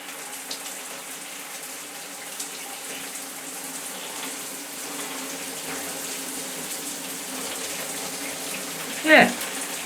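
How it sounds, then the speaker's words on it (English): Rain shower head running steadily after being switched on, a continuous fine hiss of water spray throughout, with a brief louder splash or knock near the end. "Let's zoom back out and switch the shower on."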